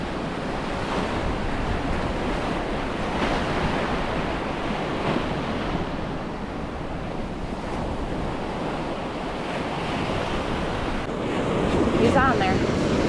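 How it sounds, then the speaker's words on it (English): A strong east wind buffets the microphone on a beach during surf fishing, with constant roaring surf underneath, a steady loud wash throughout and a faint voice near the end. "Fighting an east wind today, you guys."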